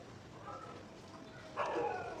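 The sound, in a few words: dog barking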